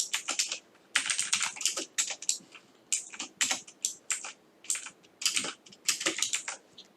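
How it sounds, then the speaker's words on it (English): Fingers clatter on a computer keyboard up close in uneven bursts of quick keystrokes, with brief pauses between runs and no voices. "sorry, I'm still having problem typing."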